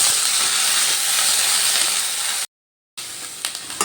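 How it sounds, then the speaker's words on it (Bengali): Boiled figs sizzle in hot oil in a pan, a loud, steady frying hiss that cuts out abruptly for a moment before resuming with light clicks and pops. "ওই তেলের মধ্যে ডুমুরগুলো দিয়ে একটু ভালো করে ভেজে নেব।"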